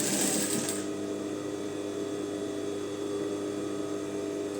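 A sewing machine stitching a trouser waistband runs in a steady, fast, continuous mechanical hum and whir, close and even throughout, with a brief brighter rattle at the very start.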